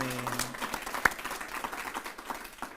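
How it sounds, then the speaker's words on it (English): Business accelerator audience in Bermuda gives a short, thin round of applause, scattered claps with one sharp clap standing out, fairly faint and loose. "could we give a round of applause"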